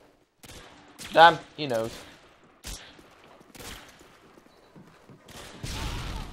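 Bursts of video game gunfire, a few sharp cracks and a rapid volley scattered across the clip, mixed with a voice talking over and between the shots.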